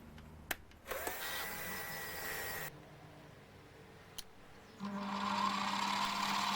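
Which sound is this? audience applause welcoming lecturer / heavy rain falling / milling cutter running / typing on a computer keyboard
milling cutter running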